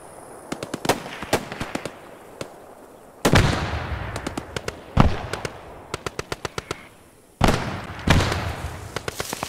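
Gunfire in the video game Post Scriptum, many sharp shots cracking out near and far in scattered clusters, with a few heavier booms rolling in, and no voices over the battle.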